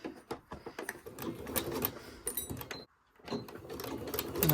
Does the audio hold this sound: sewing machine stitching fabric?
yes